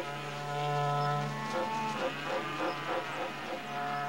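Cattle on the open Pantanal prairie low with long, drawn-out moos that overlap, several animals calling at moderate distance with no talk.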